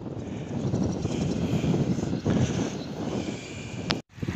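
A steady engine drone of a Russian border patrol aircraft passing, mixed with wind rumble on the microphone, ending in a brief cutoff.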